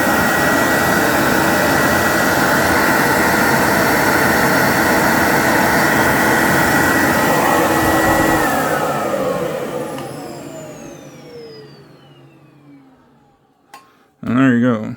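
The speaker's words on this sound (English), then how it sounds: "So I'm going to turn this vac on again." A Bissell Big Green carpet cleaner runs with a loud, steady motor whine for about eight seconds, then powers down and winds off, its pitch falling away to near silence before a short burst of sound at the end.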